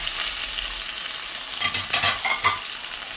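Tomatoes sizzle in hot oil in a curry pot, a dense close crackle with a few stirring scrapes and bursts of spitting, no voices.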